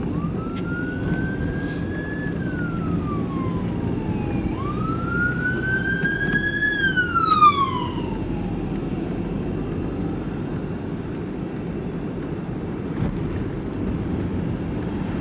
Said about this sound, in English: there's an ambulance coming, it's going out of his way.